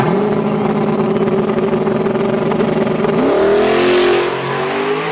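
A race car engine drones loudly at high revs, then climbs sharply in pitch as it launches hard off the line in a nitrous-versus-turbo drag race, with no voices.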